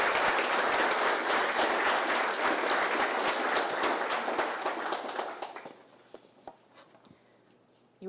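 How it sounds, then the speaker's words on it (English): Audience applause at a university awards ceremony, dense and loud clapping from a large crowd that holds steady, then thins out to a few scattered claps and fades near the end. "a big round of applause for Harry."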